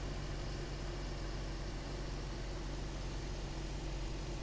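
A Chevy Avalanche engine idles steadily and smoothly with a low, even hum, faint and continuous throughout, with no talking.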